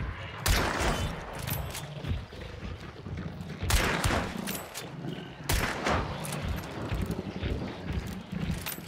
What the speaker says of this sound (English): Yeah, I'm shooting at the dude.